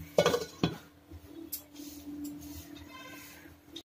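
A metal lid is set onto a pan of Bengali-style Bombay duck (loitta fish) curry, with two sharp clinks close together, followed by a soft simmer and faint kitchen shuffling.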